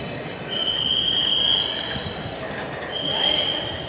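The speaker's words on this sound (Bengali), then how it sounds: "দেখতেছি মেট্রো ট্রেন, এই মেট্রো স্টেশন" A metro train at Uttara metro station in Dhaka produces a steady rumble along with high-pitched wheel squeals that rise twice, close and fairly loud.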